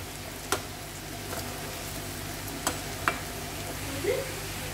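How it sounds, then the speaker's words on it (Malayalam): Sliced onions fry in a pan for a Kerala kadachakka curry, giving a steady soft sizzle with a few faint clicks and stirring taps, quiet and continuous throughout. "നമുക്ക് ഉള്ളി ഒന്ന് ചോക്ക മൂപ്പിച്ചെടുക്കണം"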